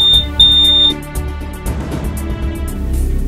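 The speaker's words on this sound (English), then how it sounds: "Seatbelt the Clown tests his smoke alarm every month" A smoke alarm being tested beeps shrilly and piercingly twice in short bursts, then cuts off, leaving music playing underneath.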